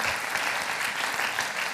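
Dense, steady applause from a lecture audience at a 2017 evening talk on religion and identity, filling the hall continuously and close for the full length without a break.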